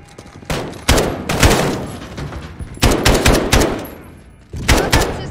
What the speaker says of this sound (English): Shoot until they fall, like we said